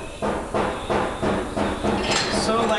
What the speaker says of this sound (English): So this air hammer with the chisel works pretty good.